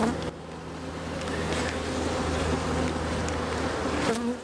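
Honey bees in an open, well-stocked beehive during queen-rearing preparation drone in a loud, steady, close buzz that fills the whole stretch, with a few brief handling bumps.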